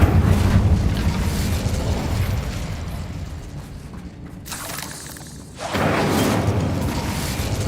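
A fire spell cast in Hogwarts Legacy roars as a loud whooshing burst, fading away and then flaring up again as a second rushing blaze.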